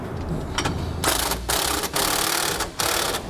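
U-bolt hardware is tightened on SumoSprings helper springs on a truck, giving rapid mechanical ratcheting bursts separated by short pauses, close and moderately loud, with no talk.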